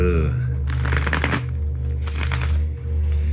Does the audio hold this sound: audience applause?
no